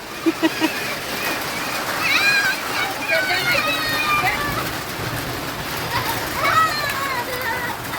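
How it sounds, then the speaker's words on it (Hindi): Steady rain hisses through the whole stretch of a stormy evening downpour while children shout and chatter close by, with a few sharp squeals standing out over the downpour. "बारिश शुरू हो गई।"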